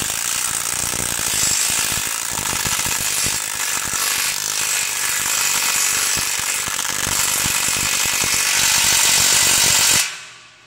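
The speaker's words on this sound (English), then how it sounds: "Drive in with the impact driver until fully seated." An impact driver seats a floor screw anchor with a continuous loud, rattling hammering for about ten seconds, close by, stopping abruptly at the end.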